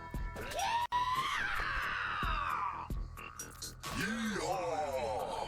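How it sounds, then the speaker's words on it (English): A loud in-game yeehaw battle cry from the Dragon Kisser video game: a shrill, strained vocal yell that bends in pitch, holds for several seconds with a brief break near the start, and swoops again toward the end over a steady game backdrop. "The yeehaw is pretty loud though."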